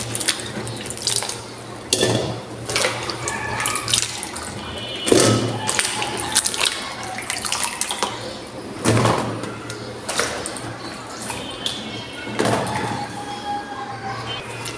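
Vegetables washed by hand in a kitchen sink under running tap water, a steady flow of splashing with repeated thumps and knocks as they are rubbed and handled, close and fairly loud.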